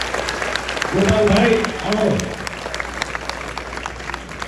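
A crowd at an Ahir community gathering in Kutch claps in dense applause, with someone speaking over the clapping on a loudspeaker.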